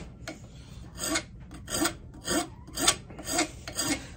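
A hand file rasps along a carbon steel knife blade in about seven close, rhythmic push strokes separated by brief pauses.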